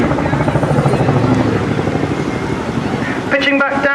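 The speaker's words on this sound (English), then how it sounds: "And here they go, ladies and gentlemen, the 2019 Chinook display." A Chinook helicopter flies an airshow display at the 2019 Torbay Airshow, its twin rotors throbbing loudly and steadily, with a voice talking over the noise.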